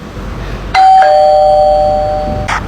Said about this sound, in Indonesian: sekarang Bapak bel dulu rumahnya